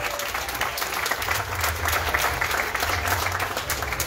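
Crowd applause at a political party event, a sustained, loud patter of many clapping hands with a low rumble of crowd noise underneath.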